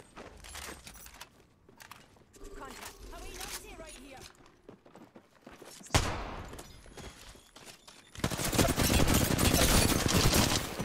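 Rapid gunfire from an Apex Legends firefight, bursts of automatic shots that swell to a loud, dense barrage near the end, mixed with game noise and people talking.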